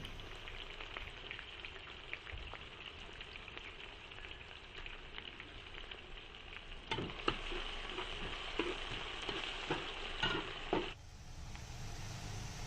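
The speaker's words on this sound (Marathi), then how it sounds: "बारीक चिरलेली हिरवी मिरची आणि लसूण घालून छानसे परतून घेऊ" Finely chopped green chili and garlic sautéing in a pan over softened onion, giving a steady low sizzle with a busier stretch of spatula scraping and stirring midway before settling back to a quieter fry.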